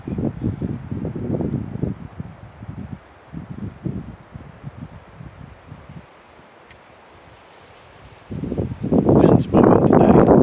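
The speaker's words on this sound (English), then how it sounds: "Wind's blowing today." Wind gusts rush through the trees of a state forest, rising and falling in waves and swelling louder near the end, with faint insect chirping beneath.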